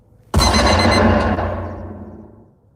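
An alarm clock starts ringing abruptly and loudly, a dense metallic ring with a sharp onset that holds for about a second, then decays and fades away; no voices.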